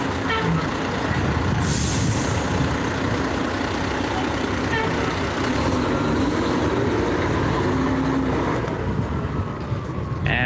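Heavy traffic rumbles steadily along a Montreal city street, with a truck passing and a short, high air-brake hiss early on; loud and continuous, with no talk.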